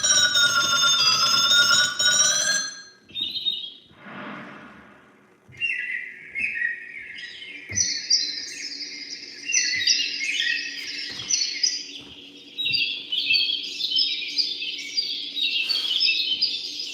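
Musical bird chirps in a live cooking and music improv, a rapid twittering of high electronic tweets that follows a short ringtone phrase and carries on loudly and continuously.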